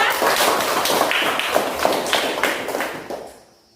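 Classroom applause for a student group after their presentation, a dense patter of many hands clapping at close range that fades out near the end.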